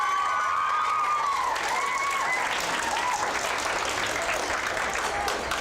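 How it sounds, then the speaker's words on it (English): An audience at a Museum of Discovery science show breaks into sustained applause, a loud, dense wash of clapping with some cheering and raised voices mixed in. "let's give one more big round of applause for Miss Cochran."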